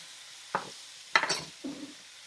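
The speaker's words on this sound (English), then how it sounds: "Even the juice from the sausage and the shrimp is going to go in here. Mix that up together." Shrimp and sausage being stirred with their juices in a single pan, giving three short scraping, sizzling stirs of a utensil against the pan, close and fairly soft.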